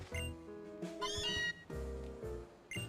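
A cartoonish cat meows from the Pokemon Ultra Sun video game, giving a few short, quiet, pitch-sliding cries over soft in-game background music.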